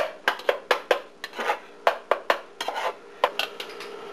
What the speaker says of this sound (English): First we'll chop the eggs a little bit.